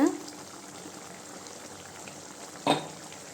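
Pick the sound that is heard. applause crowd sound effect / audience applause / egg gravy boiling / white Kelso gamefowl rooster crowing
egg gravy boiling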